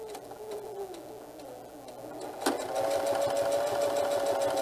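A sewing machine stitches a back tack through thick, layered tote bag fabric, its motor whirring in a steady run that slows, then picks up again after a brief knock, close and clear.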